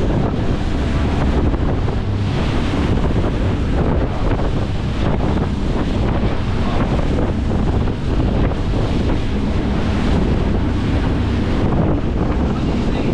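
Strong wind roars and buffets the microphone continuously, with rushing water and the low drone of a speedboat engine underneath.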